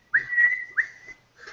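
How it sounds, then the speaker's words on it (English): A shrill whistle sounds two long, steady blasts in quick succession, followed by a fainter third onset, standing fairly close with no wind or voices clearly audible behind it. "you hear the shrill call of a whistle"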